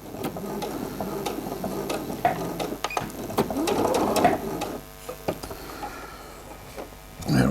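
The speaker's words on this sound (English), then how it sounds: "Always do a few back stitches." A sewing machine stitches fabric for a newsboy cap, running in quick bursts of rapid mechanical ticking with brief pauses for back stitches, fairly quiet and close.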